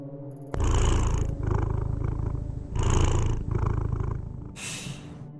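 A cat purrs in the video game Tokyo Dark, a loud, close, continuous rumbling purr that swells and eases in waves over game music.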